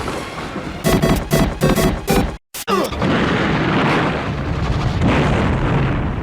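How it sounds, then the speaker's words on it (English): A van blows up in the 1992 film Seedpeople: a series of sharp rhythmic bursts, then a brief cut, then a loud booming blast that trails into a sustained rumbling roar of fire and debris. "manages to blow up the van before falling over and banging his head on a rock"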